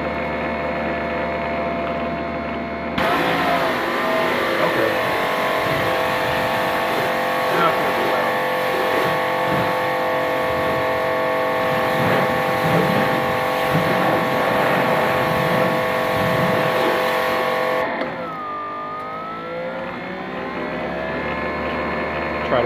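Greenworks Pro 2700 PSI pressure washer spraying through a green 25-degree nozzle, a loud continuous hiss and engine drone starting after a few seconds and stopping abruptly near the end, with a voice talking over it.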